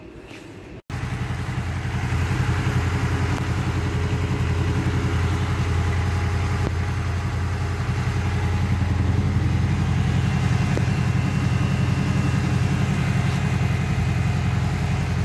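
Honda VFR 800 VTEC motorcycle engine idling hot at about 101 degrees, its cooling fan whirring on, a steady close rumble with a constant fan hiss after a brief bump at the start.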